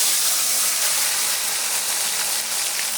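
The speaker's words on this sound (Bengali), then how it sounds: "এই তেল গরম হয়ে গেছে, এখন ডুবা তেলে ভাজবো" Marinated chicken deep-frying in a pan of hot oil, giving a steady, close, bright hiss and crackle that continues evenly without talk.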